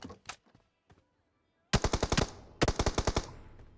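PUBG Mobile gunfire: a few scattered single shots, then two rapid automatic bursts of about eight rounds each, loud and close.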